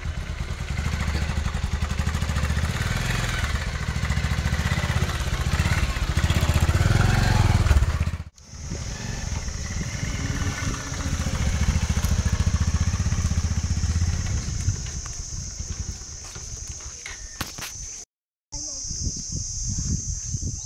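A motorcycle engine runs loud and close with a steady low rumble for about eight seconds, then cuts off abruptly and gives way to quieter background noise, with voices talking over it.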